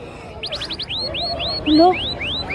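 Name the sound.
person imitating bird call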